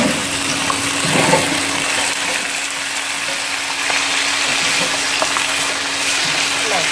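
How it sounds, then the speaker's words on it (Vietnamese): Pork bones stir-fried in lard with shallots in a home kitchen for a Vietnamese soup give off a steady, close sizzle with scraping stirs throughout, and no one speaks. "Đảo to qua cho nó ngấm gia vị, cho nó thơm, không cần đảo kỹ."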